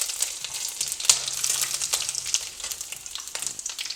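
Ginger hits hot oil with popped mustard seeds, urad dal and chana dal, giving a dense, crackling sizzle with a few louder spits near the start.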